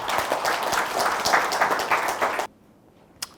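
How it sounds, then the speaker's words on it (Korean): An audience at a university lecture on feng shui claps warmly for about two and a half seconds, then stops abruptly, leaving near quiet with one faint knock. "우리 모두에게 뜨거운 박수 한번 부탁드리겠습니다."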